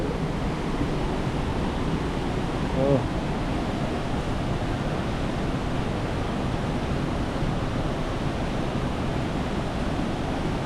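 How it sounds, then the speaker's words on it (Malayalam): A waterfall in Pokhara roars as a steady, dense wash of broadband noise that continues unbroken throughout, with a brief faint voice partway through. "സൂപ്പർ വെള്ളച്ചാട്ടമാണ്."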